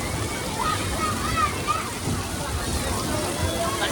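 Water splashes and sloshes steadily on an amusement park ride, a continuous wash of spray and rushing water with people's voices mixed underneath.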